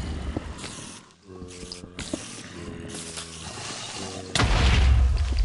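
A creeper explodes in Minecraft: soft mechanical clicking and rattling game sounds build up, then a sudden loud, deep blast fills the last second and keeps rumbling.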